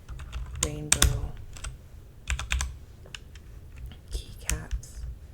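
Bursts of clicky plastic taps and snaps as keycaps are pulled off and pressed onto a computer keyboard, close and crisp, in irregular clusters with quiet gaps between.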